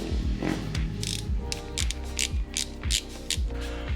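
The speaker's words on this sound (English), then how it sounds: "removing those two silver screws will allow you to pull this back like that" Screws being backed out of a 2025 Ducati Panigale V2 throttle housing with a ratcheting tool, giving close, quick clicking ratchet strokes in a steady series with brief pauses.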